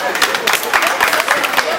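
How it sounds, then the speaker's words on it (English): A small audience claps along in quick, uneven bursts, the sharp slaps fairly close and loud, mixed with voices talking over them. "Let's clap for her."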